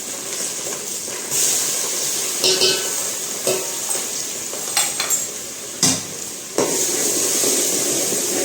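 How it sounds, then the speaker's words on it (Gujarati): Asafoetida, capsicum and ginger-chili paste sizzle loudly in a hot pan, a steady frying hiss broken by several sharp scrapes and clatters of a spoon stirring, with no talk. "હવે આપણે એમાં નાખીશું હિંગ, કેપ્સિકમ અને આ છે આદુ મરચાની પેસ્ટ."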